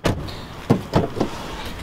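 A car door in a parking structure handles with a few short clunks and thumps, one sharper knock followed by two more quick knocks, close by, with no talking.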